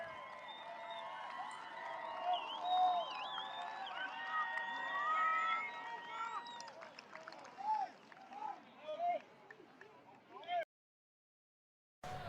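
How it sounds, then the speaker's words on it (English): The home crowd at a Manteca versus Granite Bay high school football game heads into halftime, a broad roar of shouting and cheering voices that swells, fades into scattered calls and briefly cuts out near the end. "I'll let you listen to their crowd as they head to the halftime break."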